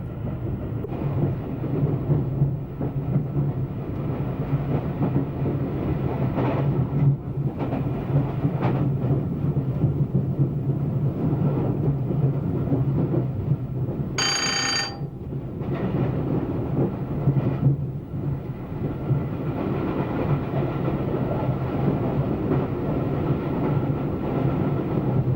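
An LT&S steam train runs under power along the rails with a heavy, continuous rumble and rhythmic rolling noise. A brief, sharp, high tonal burst cuts in partway through. No one speaks.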